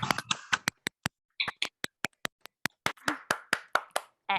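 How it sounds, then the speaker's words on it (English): Scattered applause from an online audience at a Refugee Week writing showcase, a string of separate sharp claps and a few clustered bursts over several seconds, close and uneven, with no talk. "do a big round of applause for the friends who have contributed to this fantastic book"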